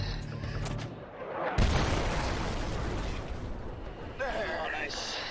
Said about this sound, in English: the bang you get from 200 pounds of explosives